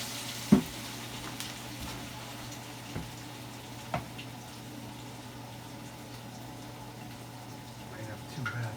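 Corn dogs frying in hot oil give a steady, low sizzle close by, with a few sharp pops and clicks breaking through.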